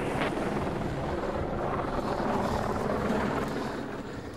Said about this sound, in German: Helikopter ist frei.